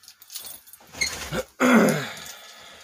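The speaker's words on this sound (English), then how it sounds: "Grab my keys from my toolbox." A ring of keys jangles as it is taken from a toolbox in a wood-carving workshop, short metallic rattles ending in a louder clatter, close and alone.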